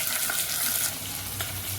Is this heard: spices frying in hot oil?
yes